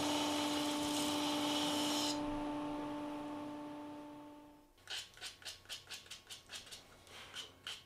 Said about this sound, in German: jetzt spanne ich da so eine kleine Schleifwalze auf und dann kann man hier also den Ausgießer noch ein bisschen abrunden